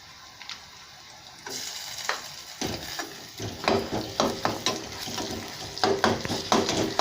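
Green chili frying with ginger garlic paste in hot oil for a goat brain fry, a low steady sizzle that grows louder as the paste goes in, broken by stirring clinks and scrapes.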